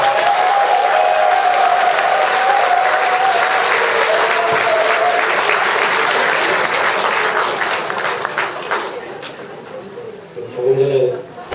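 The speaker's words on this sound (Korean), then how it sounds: "박수로 모시겠습니다." An audience applauds at a Won Buddhist New Year ceremony in the Busan–Ulsan diocese: a long, steady burst of many hands clapping that gradually thins and tapers off, with a voice briefly audible near the end.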